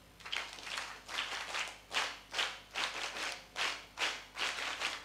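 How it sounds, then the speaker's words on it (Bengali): A scout group in Barisal performs a scout clap in unison, seven or eight sharp rhythmic bursts of group clapping spaced evenly about half a second apart, loud and close. "সকলের জন্য আরেকটি স্কাউট করতালি"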